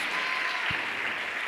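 A church congregation at a family worship service applauds in a continuous, even wash of many hands clapping, held at moderate loudness with a single low thump partway through.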